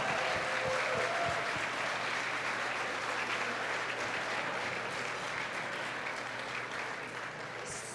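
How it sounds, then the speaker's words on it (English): Gala audience at a 25th anniversary celebration applauds an absent donor, a steady, dense wash of clapping from a large room that holds evenly for the full length, with a faint low hum beneath. "we'd love to give her a round of applause"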